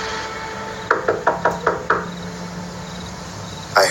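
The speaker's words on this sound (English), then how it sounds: "so I just knocked really hard" Six sharp, hard knocks on the front door of a building, evenly spaced in quick succession, then quiet and a final bump.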